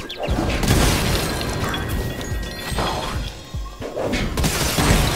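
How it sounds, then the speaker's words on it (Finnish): Spyro smashing cannon towers in Spyro 3: Year of the Dragon on the Reignited Trilogy for PS4, a dense, loud stretch of crashing, shattering debris and booming impacts that continues almost without a break. "Miks mun pitää näitä tykkitorneja silleen, kun mä pystyn itekin murskamaan nämä?"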